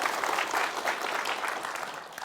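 An audience applauds at a Korean parenting talk concert in Gwangju, a steady wash of many hands clapping at moderate volume throughout, with no one speaking over it.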